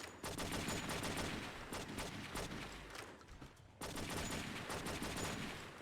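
Sustained automatic gunfire rips through a wall in True Crime: New York City, a loud, dense rattle of rapid shots that drops off briefly and then resumes at full intensity.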